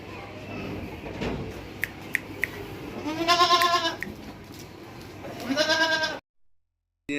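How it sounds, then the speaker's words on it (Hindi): A goat at a livestock market bleats twice, nasal wavering calls a couple of seconds apart, fairly close over a murmur of background noise and scattered clicks. "ये बकरी देख सकते हैं आप लोग"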